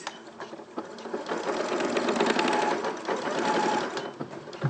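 A sewing machine stitches a 5/8 seam along a pocket edge, running steadily and fairly close for several seconds with a slight rise and fall in pace, alone with no talk.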